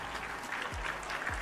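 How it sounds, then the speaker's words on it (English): Applause from a live-stream audience, a steady wash of clapping held at an even level for a brief moment, with low thumps underneath. "Let's cheer and clap one more time."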